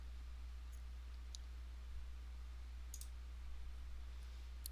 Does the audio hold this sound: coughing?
no